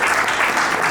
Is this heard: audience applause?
yes